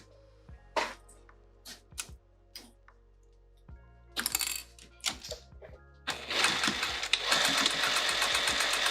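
A sewing machine stitches a Plover pouch with its edges folded in; a handful of sharp clicks and taps come first, then the machine runs in a steady, close, continuous whir.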